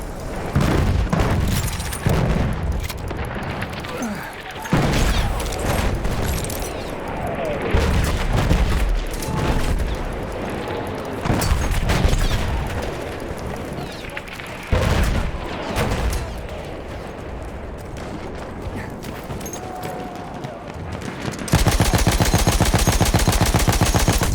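Battlefield 1 combat gunfire crackles in dense, rapid bursts mixed with heavy booms and explosions, loud and close, with no pause throughout and a harsh steady din at the end.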